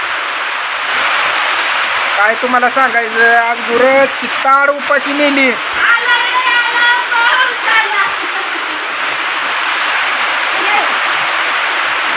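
Heavy monsoon rain pours in a stormy downpour with a steady, loud, dense hiss that never lets up. A person talks over it for a few seconds partway through.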